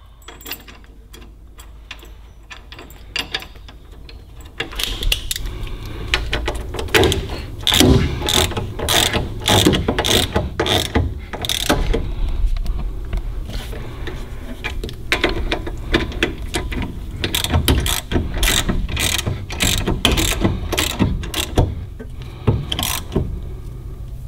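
Ratcheting clicks and metallic mechanical rattles, close and steady, as a bolt with spacer washers is threaded and tightened on a brake bracket during a Wilwood big brake install on a Datsun 280ZX.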